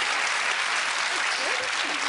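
A studio audience on a TV quiz show applauds, giving a dense, even burst of clapping that is loud and steady for its short length.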